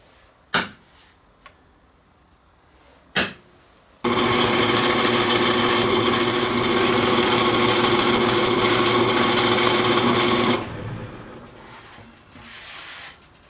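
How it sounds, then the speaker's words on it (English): A power drill grinds steadily through wood, boring a 1-inch through hole after two sharp center-punch taps, for several seconds, then winds down and stops. "we're going to center punch and drill a 1 inch through hole"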